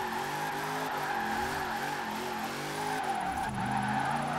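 A police car drifting in Forza Horizon 4 holds a steady engine drone with wavering pitch as it slides, tires hissing underneath, with a shift and renewed engine pull near the end.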